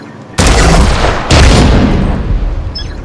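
An explosive trap detonates in The Division 2, heard as two sharp, loud blasts about a second apart, each with a broad roaring tail that slowly fades.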